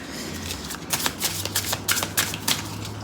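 Tarot cards are shuffled by hand at close range, giving a quick run of crisp riffling flutters and soft slaps over a low steady hum.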